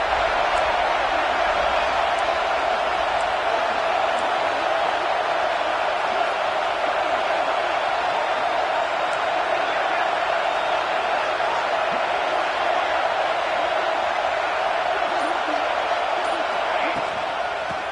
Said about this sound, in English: Crowd alive.